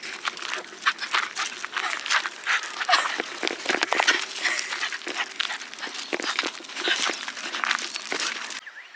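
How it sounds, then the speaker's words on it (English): A dog on a van-life road trip near Cairns, Australia, makes excited, busy noise up close: panting, whimpers and bursts of scuffling and yelps in an irregular rush, without clear separate barks. "Crazy dog this morning"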